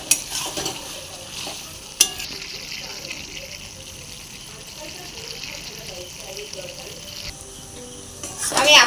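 Soybean and potato curry stirred in a pan with a spoon, soft scraping and gentle sizzle, with a couple of sharp utensil knocks at the start and a louder clatter near the end.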